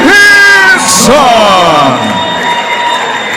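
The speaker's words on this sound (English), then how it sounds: "A big round of applause for Kevin Higginson." Cheering and whooping from a crowd at a live show, loud voices yelling and hollering close by, then settling into a fainter murmur.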